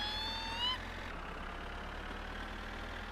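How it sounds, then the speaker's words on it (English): The van's engine in the My Summer Car video game gives a steady, droning mid-range hum. A brief tonal whine drops out early, leaving a continuous engine roar. "Rev up that engine."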